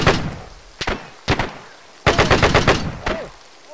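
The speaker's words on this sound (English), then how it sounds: "see if we can get this machine gun set up" Automatic machine gun fire in the Arma 3 video game, with short separate bursts and then a loud, rapid sustained burst of shots close by and no talking.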